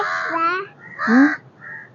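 A voice imitates a crow's caw in two drawn-out, wavering calls followed by a fainter third, close and fairly loud in a quiet indoor setting.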